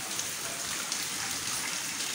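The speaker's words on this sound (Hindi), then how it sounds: "तो ये देख सकते हैं आपको तेज़ बारिश हो रही है" A heavy downpour falls in Karachi, its steady close hiss of rain on wet surfaces continuous and even, with a few faint drip taps standing out.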